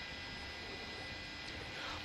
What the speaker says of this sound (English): I think this is the CHP's Inland Division helicopter that looks like they're going to come in here